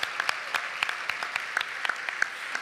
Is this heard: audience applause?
yes